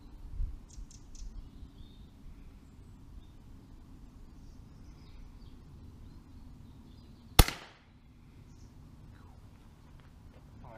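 A single sharp, loud crack of an air rifle pellet striking a board at close range, quickly decaying into quiet background hiss.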